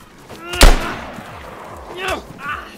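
A single sharp, loud gunshot in DayZ rings out, then fainter shots and echoes follow, with game ambience and voices underneath.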